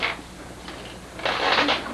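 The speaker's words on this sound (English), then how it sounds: "let's shuffle up the cards here for just a minute" A deck of playing cards is riffled at a magic show, two short crisp bursts of flicking cards, the second longer, close and fairly loud.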